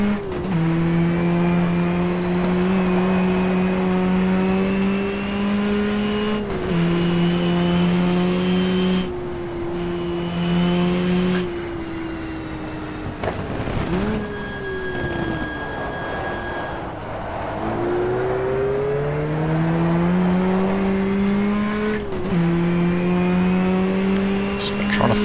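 A Gitane-liveried Porsche race car in the racing game GTR2 at Jarama drones loudly up and down through the gears, with engine pitch rising and falling through shifts and corners, under intermittent commentary-style speech.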